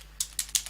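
Three quick keystrokes on a computer keyboard at a Linux command line, crisp and close, evenly spaced with no voices.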